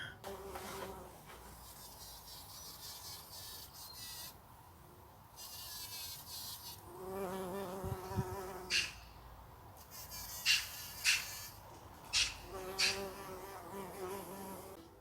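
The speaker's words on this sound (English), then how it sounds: "every now and again when it lands on a flower, it's like turbos kicked in" A bee buzzes nearby in a greenhouse in a low steady drone, now and then surging into louder, higher-pitched bursts of wingbeats.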